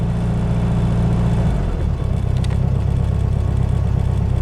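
A 1966 Volkswagen engine idles steadily with a low, even rumble that shifts slightly partway through, then settles into a rough, pulsing idle.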